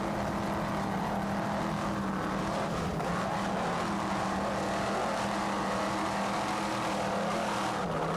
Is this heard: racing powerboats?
yes